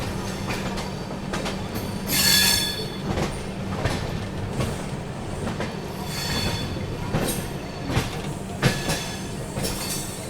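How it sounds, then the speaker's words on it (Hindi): The Mahabodhi Express rolls out of New Delhi with a loud, steady rumble, repeated wheel clacks, and a brief metallic squeal of wheels on rail, with no voices. "महाबोधि एक्सप्रेस दोस्तों निकल चुकी है देश की राजधानी नई दिल्ली से"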